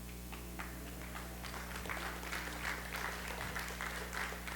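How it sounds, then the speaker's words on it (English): Faint audience applause during a spiritual talk, a soft, distant patter of clapping over a steady low hum, swelling slightly midway. "When there's an applause like that"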